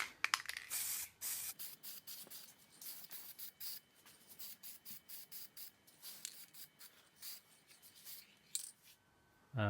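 Melamine lacquer sprayed from a rattle can onto wooden tea bag and spoon trays, a close hissing burst at first followed by many short, quiet spray puffs in an uneven rhythm.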